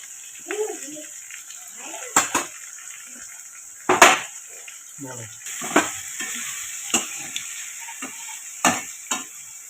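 A frying mixture seasoned with turmeric is stirred in a pan: repeated sharp scrapes and clinks of a spoon against metal over a low sizzle, with a voice talking in between.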